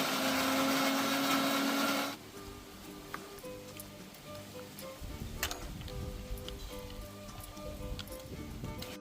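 A mixer grinder whirs loudly as it blends crab with a little water, then cuts off after about two seconds, leaving faint clicks and rustling kitchen sounds nearby.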